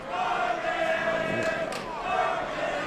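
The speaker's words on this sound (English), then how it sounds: "Well, somebody's singing in the crowd." Crowd noise filling a boxing arena, a sustained dense roar with tonal voices suggesting fans singing together, steady and loud throughout with no clear speech on top.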